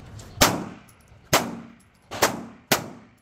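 Four loud pistol shots from a CZ Shadow 2 ring out alone at uneven intervals, each a sharp crack with a short decaying tail, fired with reloaded ammunition.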